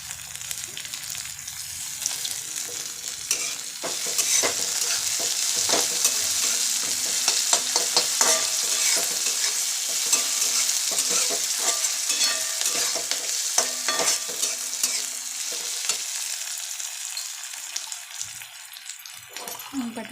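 Coriander seeds and chillies sizzle steadily in hot oil for a potato bhaji, with a utensil scraping and stirring through the pan at a close, moderate level and faint voices now and then.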